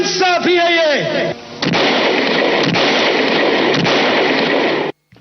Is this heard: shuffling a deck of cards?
no